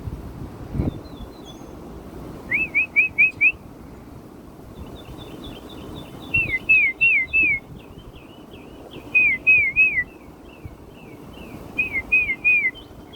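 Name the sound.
birds chirping and singing outdoors in Fort Lauderdale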